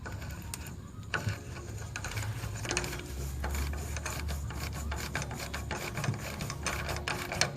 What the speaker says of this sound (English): So you use a ratchet over there.